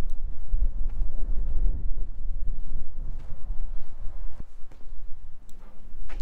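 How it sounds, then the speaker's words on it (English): Strong wind buffeting around an abandoned house in the Hinkley, California desert, loud low rumbling gusts and microphone wind roar with occasional knocks, no talking. "it was a very windy day when I filmed this"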